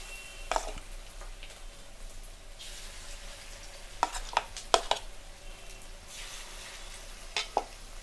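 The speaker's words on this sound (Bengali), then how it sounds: "যতক্ষণ আমাদের এই চিকেনটা ভাজা হচ্ছে" Marinated chili chicken pieces frying in hot oil, a soft steady sizzle close by with a few sharp clinks and taps of utensils scattered through it.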